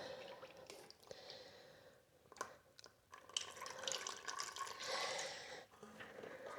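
Transmission fluid drains from the 6L80 transmission pan of a C7 Corvette, a faint, steady liquid trickle with scattered drips and a few sharp clicks, swelling louder toward the end.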